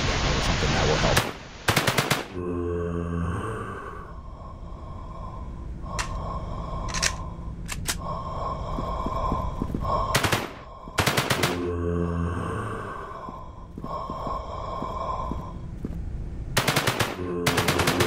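Repeated bursts of rapid automatic gunfire and single shots in the PC shooter game Bunker's Shadow, loud and close, separated by stretches of steady droning background noise.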